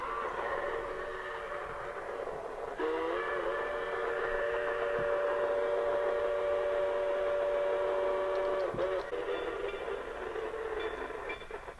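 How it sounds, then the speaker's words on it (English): Garden railroad sound system playing rail track sounds and train whistles: a sustained, tonal whistle-like blast holds for several seconds over a steady mechanical hum, with a brief break and a faint squeal near the end. "You can kind of hear the track sounds right there, and you hear the squealing of the rails when it goes around the curve, and it has the whistles"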